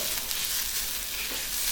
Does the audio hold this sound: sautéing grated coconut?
yes